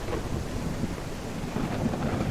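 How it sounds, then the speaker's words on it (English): A thunderstorm in the survival video game Dead Matter: steady rain hiss and a low rolling thunder rumble, continuous and fairly loud, with no talking. "It's also a bit odd that this storm is happening."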